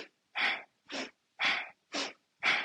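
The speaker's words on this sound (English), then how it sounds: "We're going to take one more round of this Bhastrika breath." Bhastrika yoga breathing, five forceful rhythmic breaths through the nose, each a sharp rushing puff about half a second apart, close and clear with silence between them.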